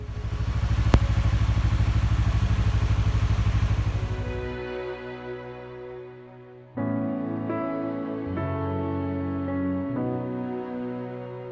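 A motorcycle engine roars steadily and close while being ridden through the Colorado mountain towns of Marble and Redstone, then drops away after a few seconds, leaving quieter tonal sounds.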